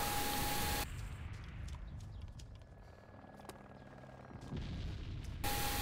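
Explosions in Arma 2 crash as loud, dense bursts that open and close the moment, with sharper distant thuds and crackles scattered through the quieter stretch between them.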